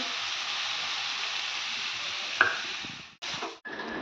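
Potatoes tipped into a pan of fried-down spice masala give a steady broadband sizzle that flares with a thump near the middle, then cuts off abruptly and returns in short bursts, close and fairly loud with no talking.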